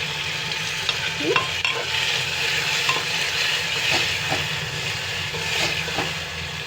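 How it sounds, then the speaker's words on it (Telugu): Tomato pieces frying in a spiced tempering for tomato chutney, a steady close sizzle with stirring scrapes and a few sharp spoon knocks throughout, no talking. "మళ్ళీ టమాటా ముక్కలు వేసేస్తున్నాను"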